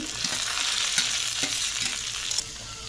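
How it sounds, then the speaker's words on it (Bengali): Fried potatoes are tipped back into a pan of fried onion and chilli in oil. A continuous close sizzle runs under soft scraping and stirring taps. "পেঁয়াজটা ভাজা হয়ে গেছে, এবার ভাজা আলুগুলো দিয়ে দিচ্ছি।"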